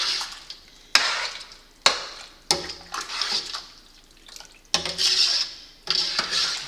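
Spoon stirring and scraping through a chili of meat and roasted chile peppers, no beans, mixed into tomato in a pot, a series of sharp clinks and wet sloshing strokes repeating every second or so, close and moderately loud.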